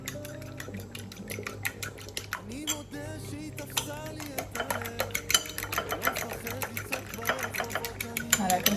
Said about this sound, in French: on va commencer par battre l'œuf, enfin les 2 œufs